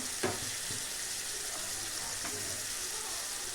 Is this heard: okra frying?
yes